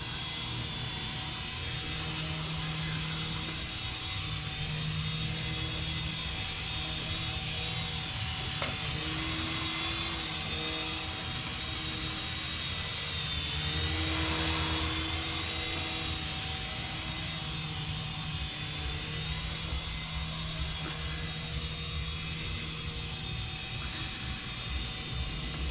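A Syma S107G remote-control toy helicopter flying indoors, giving a steady high-pitched electric motor whine with rotor buzz that holds continuously, swelling slightly midway, close and moderately loud with no talking.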